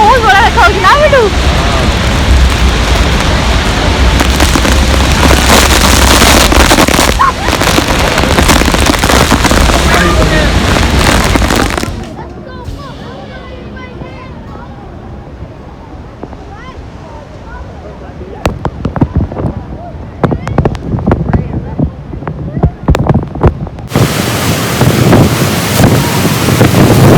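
Broad roaring wash of the Niagara Falls waterfall mixed with heavy wind buffeting on the microphone, dropping away midway to quieter ambience with scattered voices, then the loud roar returns at the end.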